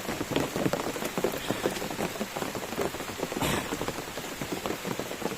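Steady heavy rain pours down through a forest during a typhoon, a dense, continuous hiss of drops pattering on leaves and surfaces with no pauses, fairly close and loud throughout.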